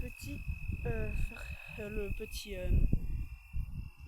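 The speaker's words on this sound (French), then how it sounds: "Il doit y avoir un grillon quelque part par là" A cricket trills in one steady, unbroken high note throughout, while people talk nearby over it.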